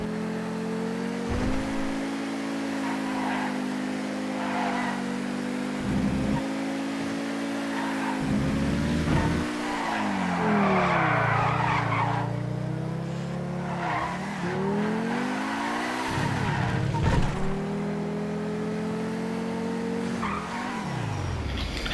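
Two-door Singer sports car in a racing video game, engine roaring as it brakes hard, tires squealing and skidding through repeated slowdowns and turns. The sound stays loud and close, with no voices.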